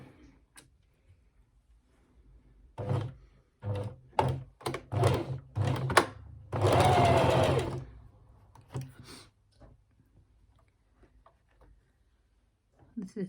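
A domestic sewing machine stitches a dress pleat in bursts, several short clattering runs then one sustained steady whirr, close up, with pauses and a mechanical thunk between runs.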